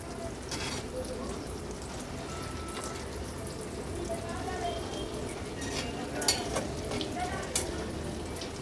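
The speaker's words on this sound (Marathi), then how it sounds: "लो टू मीडियम फ्लेमवर आपण हे केळीचे काप तळत ठेवले होते." Semolina-coated banana slices fry in a pan over low to medium flame, giving a steady close sizzle with a few sharper pops and clinks, and faint talk underneath.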